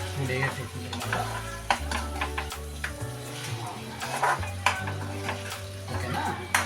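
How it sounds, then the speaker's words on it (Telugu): Chicken with pepper is stirred in a sizzling frying pan, with steady frying hiss and repeated close scrapes and clinks of a spoon against the pan and no talking. "మనం పెప్పర్ గసా వేసేసింది దీంట్లోకి బాగా కలబెట్టుకోండి"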